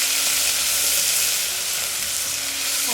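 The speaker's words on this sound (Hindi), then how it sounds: "और इसे हल्का लाइट ब्राउन होने तक, हल्का ब्राउन होने तक फ्राई करेंगे।" Chopped onion frying in a pan with cloves and cardamom for urad dal, a steady dense sizzle throughout at close range without talk.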